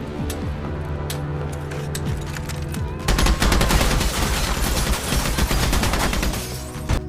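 Machine gun fire from a sci-fi film, a weapon mounted as a prosthetic leg: sustained rapid bursts over a dense, noisy action soundtrack, growing louder and more intense after the first few seconds.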